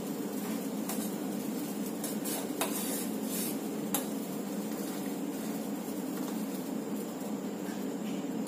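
A spoon clinks and scrapes inside a pot of boiling kadha water on a gas stove over low flame, with scattered light metallic taps over a steady background hiss.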